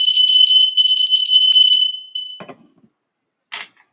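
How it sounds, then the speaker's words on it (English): A small handheld bell rung once to clear the air before a tarot reading, a bright sustained ring that fades into silence, followed by a faint brief jingle. "Let me ring my bell real quick."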